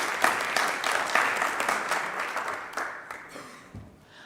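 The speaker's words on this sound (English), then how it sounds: "give a nice applause for Johannes Frey" A conference audience at a data science session applauds a speaker. The clapping is moderately loud and dense at first, then thins out and fades toward the end.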